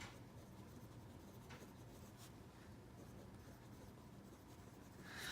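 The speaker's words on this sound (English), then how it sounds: "I'm just going to write them down" A pen scratches faint, steady strokes while numbers are written down by hand. The writing sits close against a quiet background hiss.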